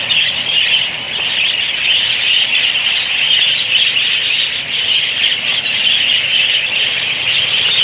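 A flock of budgerigars at a zoo aviary squawking and chirping loudly, a continuous dense chorus of shrill calls close by.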